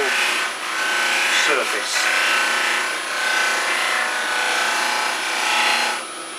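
A chestnut buffing wheel spins wax onto a turned wood piece, giving a steady close rubbing hiss with slight swells, while a person talks over it.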